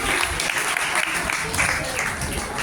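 A hall full of students at a college freshers' party claps to welcome a guest, a thick sustained roar of applause close and loud throughout, with faint voices mixed beneath.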